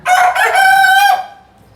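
A single loud, close crow from a Tiger breed farm rooster, a sustained cock-a-doodle-doo that fades out quickly at the end.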